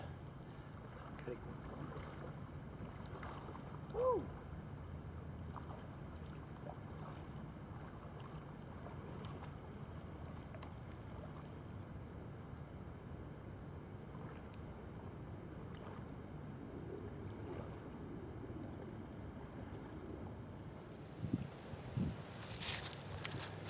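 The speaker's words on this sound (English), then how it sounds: "So I'll hop back in and kayak the 20 yards over there just to have it close." A kayak is paddled a short distance across a lake, with faint, occasional paddle strokes and water sounds under steady wind and background hiss.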